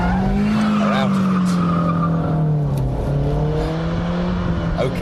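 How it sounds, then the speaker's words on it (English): A Ford Puma handbrake drift: engine revs and tires squeal in a long, loud, continuous skid with a wavering pitch, up close and with no talk. "Swing the wheel, hit the handbrake, get the clutch, and power out"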